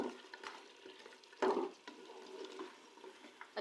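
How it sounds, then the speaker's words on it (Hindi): Korma masala being stirred into korma in a pot, a spoon scraping and swishing through the thick mixture with a soft sizzle beneath and a brief louder scrape partway through. "अच्छी तरह से कौरमे मसाले को मिक्स करेंगे।"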